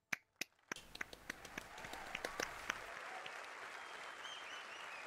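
Applause at the EA press conference at E3 2015 begins with a few isolated sharp claps, then swells into a steady wash of crowd clapping with scattered louder individual claps, heard at a slight distance.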